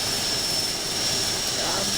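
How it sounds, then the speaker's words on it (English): A turboprop plane engine from the flight simulator game Infinite Flight gives a steady, loud whine and roar with no break over two seconds, under a high tone. "This is just a cool turboprop plane."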